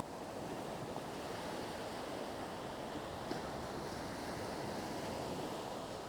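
Ocean waves wash and pull back along the shore at Iriomote, a steady broad roar of surf with some wind, heard alone without voices.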